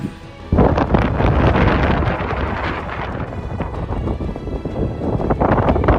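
Strong mountain wind around 60 mph on the slopes of Mt. Sherman buffeting the microphone, loud broadband roaring gusts that start abruptly and continue without letup.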